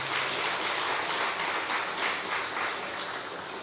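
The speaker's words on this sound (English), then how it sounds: "I want us to give Vidbutai Cultural Club a round of applause" A crowd at a football club awards night applauds, a dense, even wash of clapping from many hands, steady and slightly distant, easing off a little toward the end.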